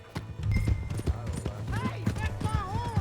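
Horse hooves clip-clop rhythmically on ground in Red Dead Redemption 2, steady repeated beats close by, with voices calling out over them and a faint whinny-like tone.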